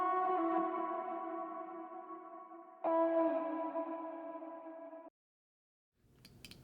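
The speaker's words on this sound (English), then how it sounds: "It came with a ton of reverb." A layered music sample plays with sustained, harmonically rich tones drenched in heavy reverb, in two long held phrases that cut to silence before a faint noisy tail.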